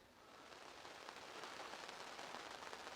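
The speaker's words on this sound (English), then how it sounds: "Well, it started raining." Rain patters on a 5th Gen Toyota 4Runner at a camp during a June storm, a soft, dense hiss of drops with faint scattered taps that gradually swell slightly, with no voices.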